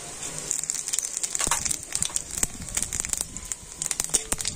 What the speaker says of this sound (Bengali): তেলের মধ্যে দিয়ে দিচ্ছি গোটা গরম মশলা, দিয়ে দিচ্ছি গোটা জিরে